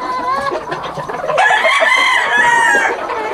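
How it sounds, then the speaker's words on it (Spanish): Chickens cluck loudly and close by, breaking into a drawn-out crow midway through, with no talk over them. "nada más nada menos que las dos mejores gallinas que yo considero aquí"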